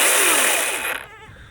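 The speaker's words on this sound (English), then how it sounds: "it's an electric chainsaw." A Milwaukee electric chainsaw's motor whines loudly at high pitch, then spins down and fades within about a second, leaving a quiet rattle.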